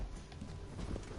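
Soft clip-clopping of horse hooves in Red Dead Redemption 2, quick and muffled, under a low background rumble.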